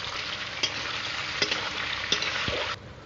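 Tomatoes and onions fry in a pan for dhaba-style chicken masala, a dense, steady sizzle with a few light stirring knocks before the sizzle suddenly drops quieter near the end.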